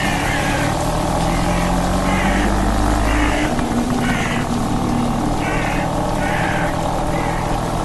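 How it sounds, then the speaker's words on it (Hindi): A scooter engine started and running in the Evil Nun video game, a loud steady motor drone with a rhythmic pulsing whine throughout. "जो स्कूटर शॉन से स्टार्ट नहीं हो रही थी उसे इविल विलन ने स्टार्ट कर लिया।"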